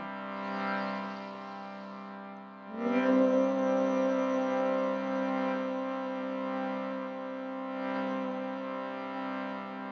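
A steady sustained vocal hum during yoga breathing practice, a low droning tone that holds through most of the stretch after a brief pause, close and even in level.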